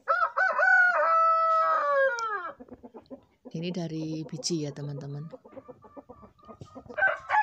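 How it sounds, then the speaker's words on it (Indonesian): A rooster crows loudly up close in a small home garden, followed by a run of hen clucking, with a person speaking briefly in between. "selalu ada suara kokokan ayam"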